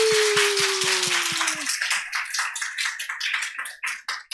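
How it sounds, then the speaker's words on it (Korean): A church congregation at a Friday New Year prayer service breaks into applause, steady clapping that starts under a held music tone and fades into scattered, thinning claps toward the end. "우리 3초간 하나님께 영광의 박수 올려드리겠습니다"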